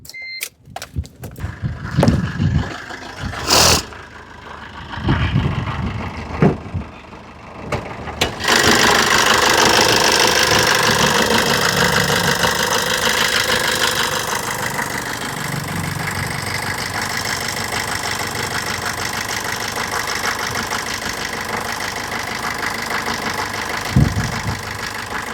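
A diesel vehicle engine is cranked over after some handling noises and catches, then settles into a loud, steady, close idle that runs to the end.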